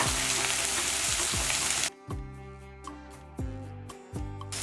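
Sliced onions sauté in a pan with a pinch of salt, giving a continuous close sizzle that shifts slightly in intensity as they cook, with no voices.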